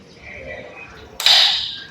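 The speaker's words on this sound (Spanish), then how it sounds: "Cuando escuchamos ese clic ya nos quedó enganchado el motor" A single sharp mechanical click followed by a brief whirring grind as a sliding gate motor's gear engages, close and fairly loud, with faint hum beforehand.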